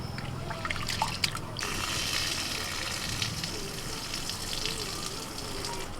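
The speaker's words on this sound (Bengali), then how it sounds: "জলটা মানে ফুটছে দেখো" Water bubbling in a covered pot with bay leaf, cardamom, cinnamon, cloves and a spoon of white oil, a steady close simmering hiss with faint drips and a brief clatter near the start.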